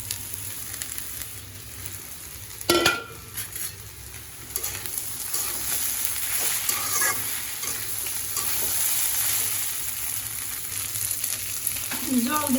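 Taki fish sizzling and frying in a pan, stirred with a sharp clatter near the start, then a steady close hiss of frying under faint scraping for the rest.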